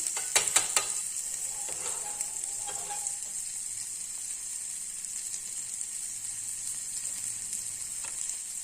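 Onions sauté in a pan for a cracked-wheat adai batter, sending up a continuous bright hiss. A few sharp clicks and scrapes of stirring come early on, and the sound stays at an even level throughout.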